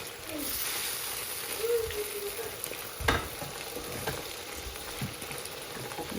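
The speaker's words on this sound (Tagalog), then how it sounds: "Ayan, kumukulo na." A pot of chop suey with pork liver bubbles and simmers steadily at close range, with a brief clink of a utensil partway through.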